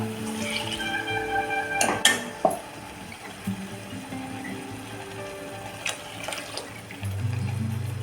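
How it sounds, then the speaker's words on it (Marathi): Water is poured into fried, ground paste for a village-style spicy fish curry (kalvan), giving a few brief splashing bursts over a steady background hum, with no talking. "परतून झालेलं आहे आता याच्यामध्ये पाणी ओतून घ्यायचं"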